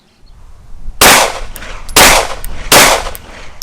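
Three loud, sharp pistol shots from a TARA Aerospace TM-9X ring out at an outdoor range, spaced about a second apart, each followed by a short echo and faint clinks, with no talking.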